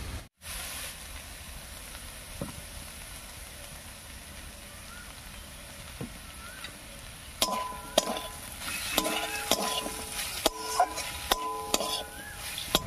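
Crushed lote shutki dried fish with salt, turmeric and chili frying in a pan, a low steady sizzle with scattered scrapes and clinks of stirring that grow busier and louder in the second half.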